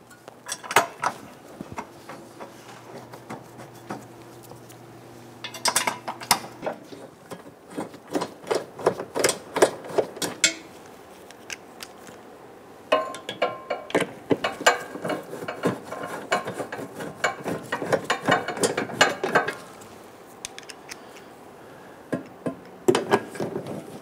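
A hand ratchet tightens bolts on a 2011-2021 Jeep Grand Cherokee 3.6L V6 in bursts of rapid clicking, several runs of close, crisp pawl ticks separated by short pauses and small metallic handling noises.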